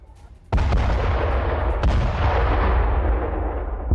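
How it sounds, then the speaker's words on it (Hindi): A sudden heavy explosion from a Russian drone strike on a kindergarten in Kharkiv, a sharp loud blast followed by a second impact and a long rumbling roar that slowly fades. "जोरदार धमाके से खार्किव दहल गया।"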